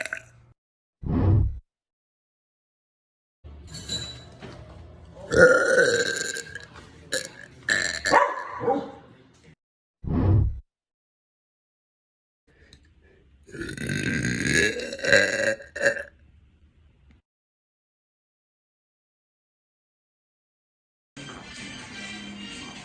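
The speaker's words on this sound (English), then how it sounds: "So I'm gonna try to show you how like I do the burp." A girl burps repeatedly, a series of loud, deep belches separated by short silences, some brief and some long and drawn out, with a final rasping one at the end.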